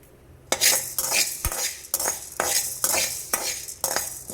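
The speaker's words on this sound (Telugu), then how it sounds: "ధనియాలు అయితే ఇలా వేపుకోవాలి మంచిగా మాడనివ్వద్దు మాడితే మళ్ళీ టేస్ట్ అనేది పోతుంది మంచిగా వేపుకోవాలి కలుపుకుంటూనే ఉండాలి" Coriander seeds dry-roast in a pan while a utensil stirs them constantly, making close, rhythmic scraping and rattling strokes, roughly eight in quick succession, over a faint sizzle.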